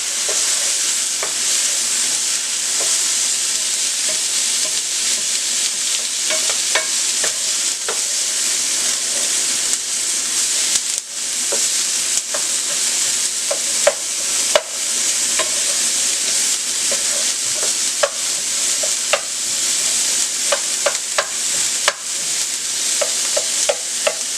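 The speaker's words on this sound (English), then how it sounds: "Celery. Stir that around." Celery stirred in a hot frying pan while making shrimp fried rice: a loud, constant sizzle overlaid with repeated scraping and tapping of the utensil against the pan, close and busy throughout with no speech.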